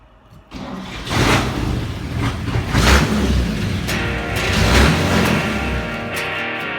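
A cold 1938 Chevy fitted with an air ride suspension system cranks and fires up, then settles into a loud, steady idle with some revving swells and hissing bursts from the air system while it calibrates to ride height.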